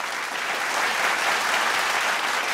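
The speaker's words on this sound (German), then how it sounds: "begrüßen Sie mit einem riesigen Applaus Senta Sofia Delli Ponti." A late-night television studio audience claps loudly and continuously as a guest is welcomed, a thick unbroken roar of hands sustained at full strength.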